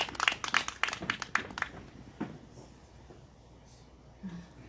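An audience claps in a brisk burst of applause that quickly tapers off into quiet room noise.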